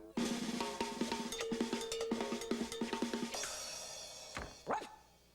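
A dog in a home setting gives a run of sharp, evenly spaced barks close by, followed by a pause and a brief higher yelp or whimper near the end, with no talking over it.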